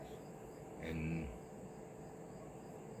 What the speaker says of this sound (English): hearing the crickets outside right now